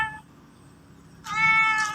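A cat outdoors gives a faint short meow, then after a pause a louder, drawn-out plaintive meow close by, with no talking over it.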